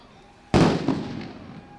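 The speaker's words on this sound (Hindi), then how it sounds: "विंडो एंट्री की तैयारी से आतंकियों का ध्यान भटकाने के लिए जोरदार धमाके।" A loud single blast goes off at a CISF commando demonstration, a sharp explosion followed by a second crack and a long decaying rumble, heard alone against faint background noise.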